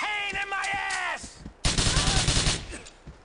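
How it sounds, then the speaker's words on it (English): Burst of rapid gunfire in Grand Theft Auto 4, a loud dense volley erupting after a stretch of voiced tones, with shots tailing off over a noisy background. "You don't need to shoot me"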